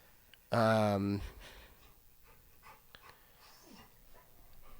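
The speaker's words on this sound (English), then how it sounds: "These dogs are almost kind of getting each other spun up right now." Dogs getting each other worked up let out a loud, high-pitched whine lasting under a second, then faint panting and shuffling continue quietly in the background.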